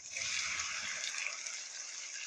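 Okra dropped into hot ghee in a pan that held fried potatoes, giving a loud, close, continuous bright sizzle that stays steady throughout.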